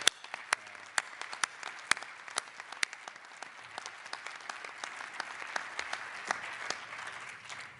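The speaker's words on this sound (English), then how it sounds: "I'd like you all to put a round of applause for Bill" A round of applause at an architecture awards symposium, scattered claps from a modest audience with distinct sharp hand strikes over a quieter background of clapping.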